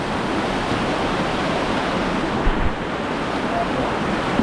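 Rushing water from a remote waterfall dam, a steady, dense broadband roar that stays loud and constant throughout, with brief low thumps near the middle.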